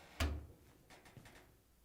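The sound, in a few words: opening the door of a Hotpoint dryer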